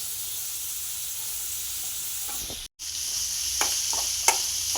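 Chopped onion, curry leaves and a pinch of kasuri methi fry in oil for palak aloo paratha filling, a continuous quiet sizzle with a brief cut in sound, then a few scraping stirs and light clinks nearby, no voices.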